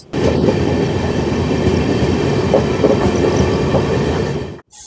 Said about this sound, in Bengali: এই অমৃত ভারত এক্সপ্রেস ছুটে যাচ্ছে হাওড়া স্টেশন ছাড়ার পরবর্তী স্টেশন ব্যান্ডেল জাংশনের পথে।